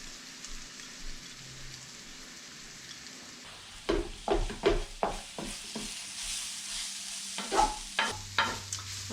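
Shredded carrot and half-translucent onions sautéing in a pan for a Polish fish pâté, a soft background sizzle broken by bursts of scraping stir strokes in quick runs, no talk.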